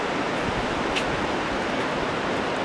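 Steady broadband wash of sea waves on a flat, gently sloping sandy beach at Costa de la Luz, a continuous near roar of surf with no voices.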